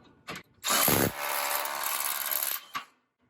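A screw gun drives a screw into wood while an aluminum patio cover hanger is fastened: a short whirring burst and a sustained grinding, ratcheting buzz lasting about two seconds, loud and close, with brief taps before and after.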